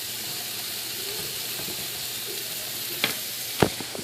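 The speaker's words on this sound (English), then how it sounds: "Make sure those apples get really caramelized." Apples caramelize in a frying pan for a grilled chicken slaw, giving a steady bright sizzle with a couple of sharp spatula clacks near the end.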